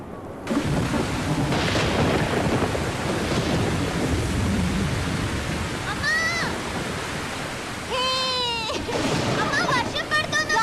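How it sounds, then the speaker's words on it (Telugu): A thunderstorm with heavy rain in a film scene makes a loud, continuous rumbling roar for the whole stretch, broken by a few brief high, voice-like calls partway through. "ఉరుములు మెరుపులు అంటే భయం."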